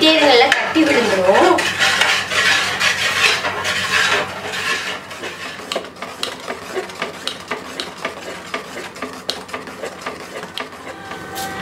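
Mixture stirred steadily in a cooking pot while it thickens, with a utensil scraping and clinking against the metal; rough scraping at first gives way to a regular rhythmic clatter of repeated strokes, fairly close and with no talking.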